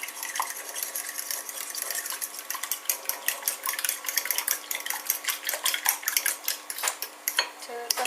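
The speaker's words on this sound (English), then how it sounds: "We're just going to just gently sort of whisk them together." Continuous quick metallic clicking of a fork whisking eggs in a bowl in a home kitchen, a brisk steady rhythm heard up close over faint background noise.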